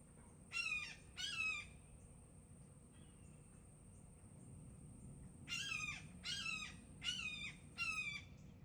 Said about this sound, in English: Boy, those birds are noisy.